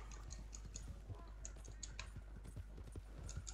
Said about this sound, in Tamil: குதிரைய வச்சு ஏத்திட்டேன்.